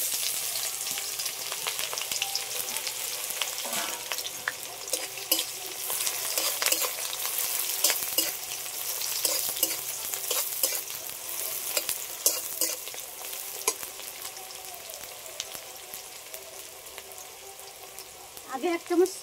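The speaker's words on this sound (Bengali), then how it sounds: "এই তেলের মধ্যে দিয়ে দিচ্ছি পেঁয়াজ কুচি" Chopped onions frying in hot oil for mutton biryani, a steady close sizzle with scattered scraping stirs and light clinks running continuously throughout.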